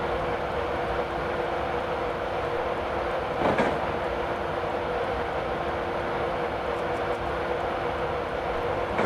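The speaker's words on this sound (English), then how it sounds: "I am allowing the train to continue to coast" A Class 91 electric train coasting at high speed in Train Simulator 2015: a steady, dense rumble of wheels on rail with a faint rhythmic clatter and one brief louder whoosh partway through, with no talking.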